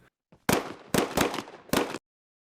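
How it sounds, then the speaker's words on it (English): Several loud gunshot-like cracks go off from an apartment in a video game level, four close bursts in quick, uneven succession, then silence. "Hearing and seeing the gunshots in the apartment"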